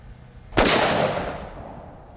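A rifle fired as practice ahead of a 4-bore cracks once, loud and sharp after a quiet moment, its report rolling away in a long fading echo with no talking.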